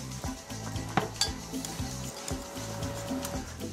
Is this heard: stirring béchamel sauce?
yes